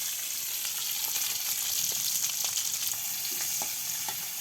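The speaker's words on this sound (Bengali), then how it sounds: "তেল গরম হয়ে গেছে, তো ডিমগুলো দিয়ে দেবো।" Eggs coated with turmeric and salt fry in hot oil, giving a steady, close sizzle with scattered crackles and pops throughout, with no voices.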